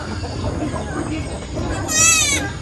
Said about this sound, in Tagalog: So 15 piraso po yung nakikita natin ngayon na mga baby kambing lahat.